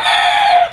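A hen sounds a single short, loud call up close, a brief sustained squawk from a backyard flock of laying hens with chicks.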